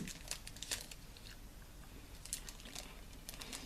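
Crisp, repeated crunches of a crunchy chocolate cookie snack being bitten and chewed close to the mic, with quiet, irregular crackling bites and no talk.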